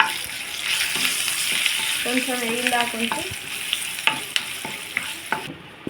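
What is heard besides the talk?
spices sizzling while tempering for cucumber chutney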